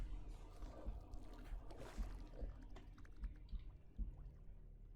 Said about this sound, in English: I have to place the lungs in a container of water and wait to see if they fall